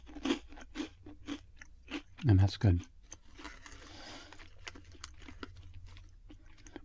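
Crunchy zesty ranch roasted chickpea snacks being bitten and chewed close to the mic, giving a few sharp crunches followed by softer chewing, with a person speaking briefly over it.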